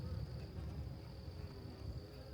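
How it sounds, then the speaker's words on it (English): A dense, steady drone of many honeybees buzzing close up at a hive frame, a continuous hum with a faint high whine layered over it. "A lot of bees."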